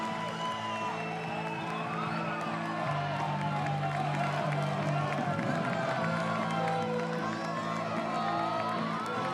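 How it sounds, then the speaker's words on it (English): A large crowd at a UCI Cyclo-cross World Cup race in Gavere, Belgium, roars and cheers steadily throughout, a dense wash of voices with shouts and whistles, alongside music-like tones and some nearby talk. "The size of this crowd."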